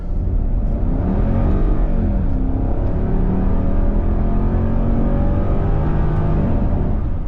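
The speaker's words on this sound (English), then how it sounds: "The engine sounds good, but always very cultured, very smooth." A V8 engine pulls hard under acceleration, a deep steady roar rising in pitch, heard from inside the car, smooth and continuous.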